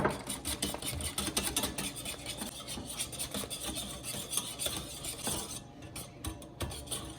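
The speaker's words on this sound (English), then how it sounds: "And then you gotta mix it until it's fluffy." Cloud bread batter of whipped egg whites with a tablespoon of cornstarch being mixed to a fluffy foam, a steady close rasping, scraping whisk sound against a bowl with no pauses, no talking.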